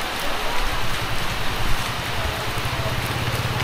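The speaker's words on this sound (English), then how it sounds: "It's raining again." Steady rain falls in Cambodia, a dense, even hiss of drops close by for a few seconds, with a faint low engine rumble beneath and no talking.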